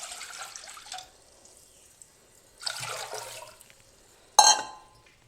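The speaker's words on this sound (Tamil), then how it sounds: "இப்போ ரசத்துக்கு தேவையான பொருட்களை வந்து இந்த பெரிய பாத்திரத்தில் ஊற்றி கரைச்சிக்க போகிறோம்." Water is poured by hand into a large vessel to dissolve tamarind, chilli and tomato for village-style rasam, in three short splashy bursts separated by quiet gaps, the last one sharp and bright.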